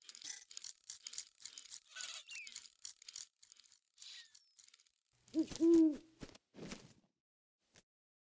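In the video game Syberia 3, a bird hoots in a few low, close calls amid scattered clicks and rustles, standing out clearly before the scene falls nearly silent.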